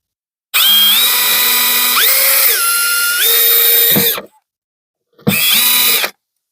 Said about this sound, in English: drill a hole in the center here